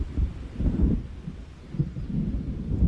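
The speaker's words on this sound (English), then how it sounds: "It seems there's a storm coming." Deep, rolling thunder from a storm in the video game Alan Wake, rumbling in two heavy swells with a brief lull between them, loud and low with a faint hiss of rain beneath.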